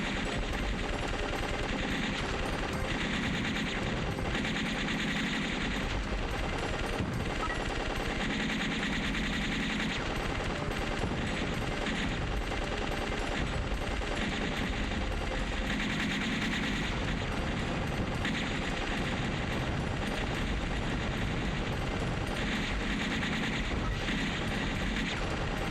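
Constant rapid gunfire from the shoot-'em-up Legend of the Steel Empire, dense automatic bursts mixed with game music and effects, loud and unbroken throughout.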